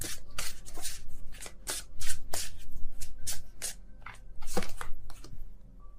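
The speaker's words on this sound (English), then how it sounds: "I don't look at the deck while I shuffle." A deck of tarot cards is shuffled by hand at close range: a quick, uneven run of crisp riffling snaps and soft slides, with no voices.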